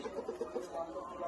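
A flock of farm chickens being fed clucks in quick rhythmic bursts at close range, steady and moderately loud throughout.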